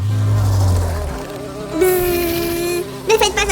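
A bee buzzes in a steady droning hum that shifts pitch partway through, loud and close, with brief fluttering bursts near the end and no talking.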